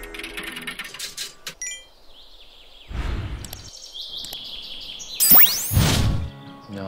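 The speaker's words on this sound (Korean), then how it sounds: "새소리 들리죠?" Short bird chirps and tweets come in bursts on an early morning walk, with rustling and a few louder thumps as someone moves along outdoors.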